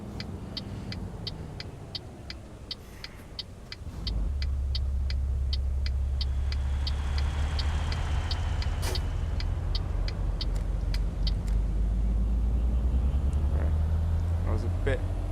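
A right-hand-drive truck rolls along a motorway hard shoulder in Euro Truck Simulator 2, its low engine rumble swelling steady and loud after a quieter start, with regular ticking of an indicator and a driver talking over it.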